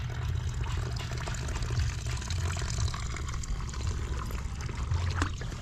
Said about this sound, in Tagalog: Punta na yung tubig doon, tutulo na yung tubig doon.